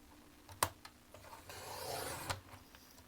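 Card stock being cut at the 5.5 mark to make card bases, giving a soft scraping, rasping sweep with a few sharp clicks, close and fairly quiet.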